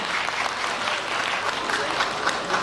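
A crowd at the Tsukaguchi festival 2024 applauds a yosakoi dance troupe, with a dense, even patter of clapping sustained throughout at a moderate distance.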